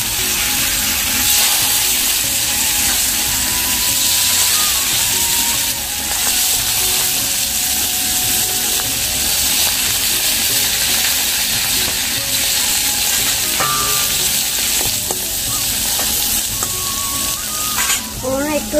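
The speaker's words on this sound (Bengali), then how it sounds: "তো দেখো এবার বেগুন ভাজাটা ভেজে নেবো" Eggplant slices frying in a pan, a continuous loud sizzle with bright hissing oil that holds steady throughout, with occasional scraping stirs near the end.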